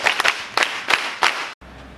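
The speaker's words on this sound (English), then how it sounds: "clap for him" Students at a high school clap for a classmate in short bursts, with several quick rounds of group clapping separated by brief pauses before the sound cuts off abruptly.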